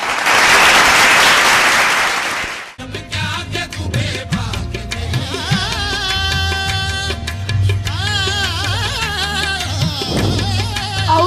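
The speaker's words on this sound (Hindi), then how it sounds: "तो इन दोनों टीमों के लिए बहुत सी तालियां" Audience applause for two competing teams at a school Iqbal Day kids' club event, first as a loud dense burst of clapping, then giving way to music and noise with scattered claps continuing.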